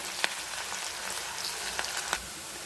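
Sliced onions frying in hot oil to brown for an eggplant curry, a steady dense sizzle with a few faint stirring clicks, close up and alone.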